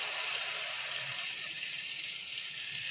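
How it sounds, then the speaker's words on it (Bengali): Fish pieces frying in a pan, a steady bright sizzle and hiss of hot oil heard close up and alone, holding an even level throughout with no talking. "চলো মাছ কাটা ভেজে নিই"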